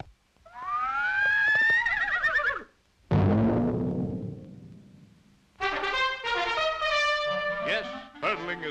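Horses whinnying loudly and close in several long, wavering neighs separated by short pauses, with a lower snorting sound between them.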